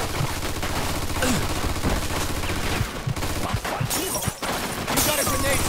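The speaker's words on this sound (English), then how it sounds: "Looks like we found the machine gun!" Machine gun fire in the game Mafia II rattles in loud, sustained bursts, mixed with chaotic battle noise and brief gaps between volleys.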